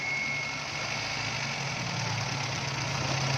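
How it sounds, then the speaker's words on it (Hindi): A Mitsubishi Pajero engine idles steadily with a rough, uneven running note from a strong misfire, continuous and fairly close throughout. "सबसे पहले गाड़ी में मिसिंग बहुत तेज़ है"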